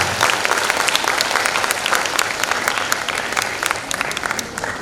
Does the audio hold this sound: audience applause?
yes